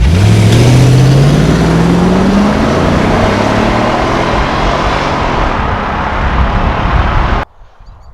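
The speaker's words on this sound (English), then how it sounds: "Insert another audio clip of the engine just there." A Jaguar XK8 convertible's engine revs hard and climbs steadily in pitch, then settles into a loud, sustained roar before cutting off abruptly near the end, with no voices.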